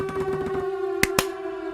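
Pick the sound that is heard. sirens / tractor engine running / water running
sirens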